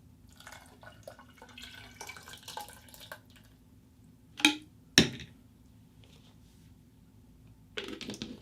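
Liquid poured back into a mulberry and blackberry cyser mead, a faint trickle and dribble over the first few seconds, then two sharp knocks of a container and a brief final splash.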